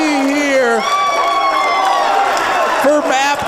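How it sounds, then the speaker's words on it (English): Live crowd at the Breachers VR esports final roaring and cheering throughout, whoops and shouts rising and falling, with an excited commentator's voice riding on top. "The crowd is excited."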